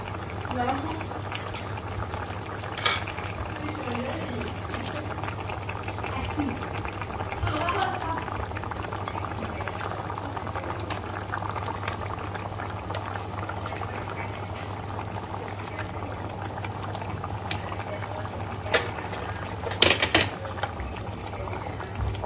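Raw papaya khar, a traditional Assamese dish, simmers under a lid in a cooking pot with a steady, soft bubbling over a low hum, broken by a few light clicks.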